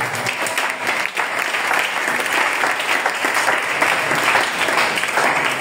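A church congregation breaks into loud, sustained applause, dense clapping filling the room steadily for several seconds with faint crowd voices mixed in.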